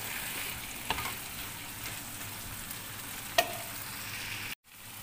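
Tomatoes fry in a pan for chicken curry with a steady hissing sizzle, close and fairly loud, broken by a couple of soft clicks and a brief cutout near the end.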